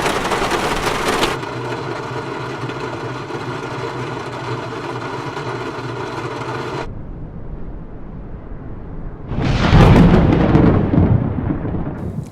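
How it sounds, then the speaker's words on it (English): Rolling thunder in Microsoft Flight Simulator 2020, a deep rumble swelling up near the end after a stretch of steady engine-like drone, heavy and low, with no one speaking. "We also have rain, thunder, and even storm for a complete weather experience."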